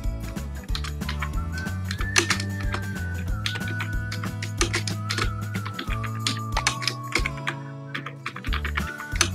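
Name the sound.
typing the school ID on a computer keyboard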